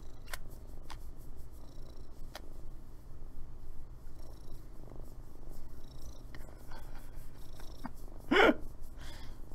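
A contented cat purrs softly and steadily as she's scratched under the chin, a low continuous rumble with a few brief clicks and one short louder rustle near the end.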